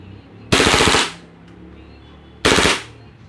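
Umarex HK MP7 airsoft gun firing on full auto in two short bursts of rapid shots, loud and close, with a pause between them and no talking.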